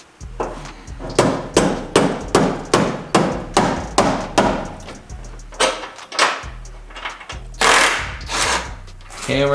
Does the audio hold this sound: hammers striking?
yes